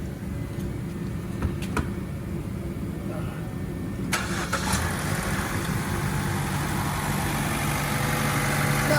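A car engine cranks and catches after a repair, then settles into a steady idle, while a person talks over the running motor.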